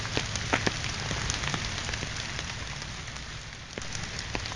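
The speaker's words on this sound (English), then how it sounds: "That could just be that it's raining on there." Steady rain patters on a surface, a dense continuous hiss with scattered sharper drops close by.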